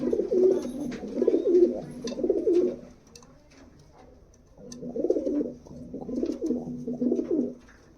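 Low, rolling coos from a pair of Rampuri pigeons come in two drawn-out bouts separated by a brief lull, close and clear, with faint fluttering in between.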